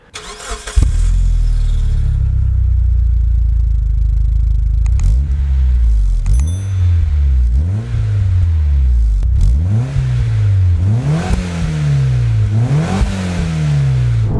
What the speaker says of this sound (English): The Dasun's car has this HKS silent high power exhaust system, which sounds really good